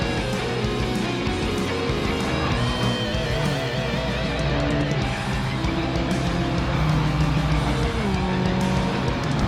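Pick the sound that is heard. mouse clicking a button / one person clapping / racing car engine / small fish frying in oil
racing car engine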